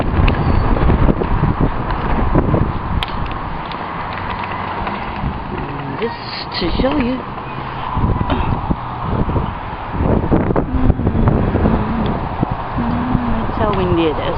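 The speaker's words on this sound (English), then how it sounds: "That's how windy it is." Strong gusts of wind around 50 mph buffet the microphone in continuous loud rumbling roars while someone speaks briefly over them.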